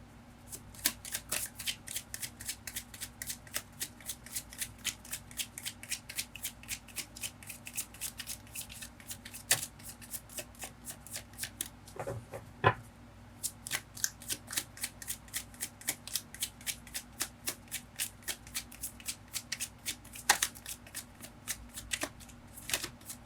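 Tarot cards being shuffled and drawn by hand, with rapid, close riffling clicks and flicks continuing steadily, broken only by a brief pause midway.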